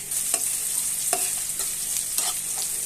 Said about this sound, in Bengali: পেঁয়াজটা হালকা ভাজা হয়ে গেলে